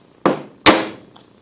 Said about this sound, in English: I'll strike it with the plastic hammer.